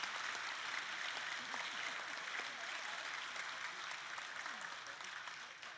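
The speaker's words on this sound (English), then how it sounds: "So can you please give Tiffany a clap?" An audience at a junior primary school nativity performance claps steadily and evenly, a dense, sustained round of applause that tapers slightly at the end.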